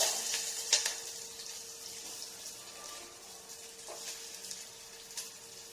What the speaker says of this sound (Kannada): ಈರುಳ್ಳಿ ಕಲರ್ ಚೇಂಜ್ ಆಗೋವರೆಗೂ ಚೆನ್ನಾಗಿ ಫ್ರೈ ಮಾಡ್ಕೊಳ್ಳೋಣ